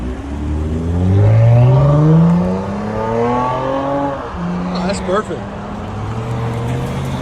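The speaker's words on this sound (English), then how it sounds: "Lexus ES350 muffler delete." Lexus ES350 with a 3.5L V6 and muffler delete, revving loud and close, the engine note sweeping up and falling back in repeated rises with a sharp blip near the end.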